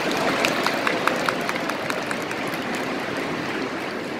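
Delegates at a party convention applaud to approve a unanimous vote, a broad, even roar of clapping from a large hall crowd with sharper individual claps standing out near the start.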